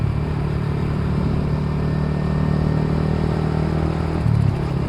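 A Yamaha motorcycle with a quick shifter, its engine rumbling steadily and loud while riding, with a slight clattering shift blip near the end.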